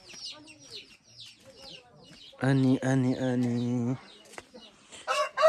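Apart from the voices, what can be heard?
chickens clucking and a rooster crowing at a coop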